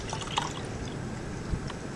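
Coolant trickles and splashes as it is poured into the cooling system of a Chrysler 2.7 engine, a steady close liquid pour with a few small drips over a low background hum.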